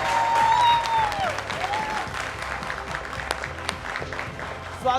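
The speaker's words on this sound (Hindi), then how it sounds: "एक बार फिर तालियां हो जाए" A studio audience claps loudly to welcome actress Rani Mukherjee, a burst of dense applause that continues at a steady level with scattered sharp claps, while some speech is briefly heard at the start.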